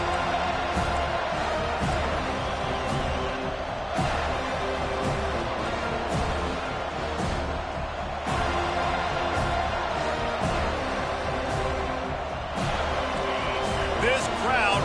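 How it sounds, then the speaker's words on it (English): A college football stadium crowd roars in a sustained, loud wash of cheering at kickoff, with a commentator talking steadily over the noise. "This crowd bringing an ear-splitting welcome to their visitors"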